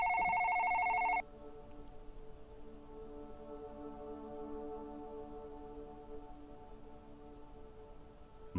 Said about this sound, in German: Telefon. Anruf von Marcus.